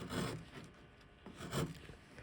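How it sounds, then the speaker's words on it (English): Flat chisel and curved gouge paring wood while carving the ball of a ball and claw foot for an 18th-century Newport card table, two close scraping strokes with a quieter pause between them. "you kind of have to just work the flat chisel and a curved gouge on the other side"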